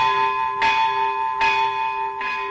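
A church bell rings three strokes about a second apart, each strike ringing with a steady, sustained metallic hum between strokes.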